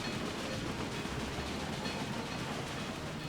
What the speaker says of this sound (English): The train is moving from Moncton, turning towards Halifax.